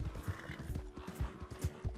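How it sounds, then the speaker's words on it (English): A wild horse in Red Dead Redemption whinnies near the player, with rhythmic hoof clip-clops running underneath through the two seconds. "There's a couple of wild horses you could grab."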